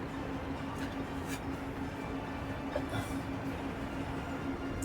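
A tram runs on rails in the Workers & Resources video game, a steady rolling rumble with a faint clickety-clack of wheels, constant and moderately loud throughout with no talking.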